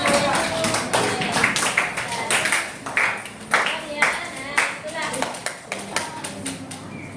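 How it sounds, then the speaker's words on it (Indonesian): A class of children claps for their classmates in a classroom lesson, scattered uneven claps and taps close by, with a teacher and kids talking over and around them. "Kasih tepuk tangan untuk teman-teman"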